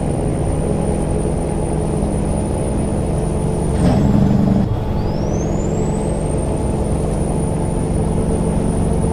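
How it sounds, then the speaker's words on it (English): Jake brake on a custom Peterbilt 389 truck in American Truck Simulator, a steady low diesel drone that rises into a brief rough engine-brake rumble near the middle, with a high whine dipping and returning; no talk. "Gotta start using that Jake brake here."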